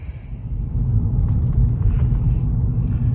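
A Lexus IS300 car driving, a steady low engine and road rumble from inside the cabin, continuous and fairly loud with no talking.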